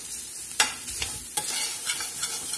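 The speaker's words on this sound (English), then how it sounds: "so that these herbs and spices can toast up and blacken and get extra good" Herbs and spices sizzle and fry in a hot pan over high heat in a Cajun kitchen, with a steady hiss broken by several sharp stirring scrapes.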